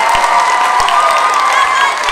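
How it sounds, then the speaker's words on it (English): An audience at a school winter concert applauds and cheers, a loud, steady wash of clapping and shouts that runs throughout. "round of applause for Gio and Riley."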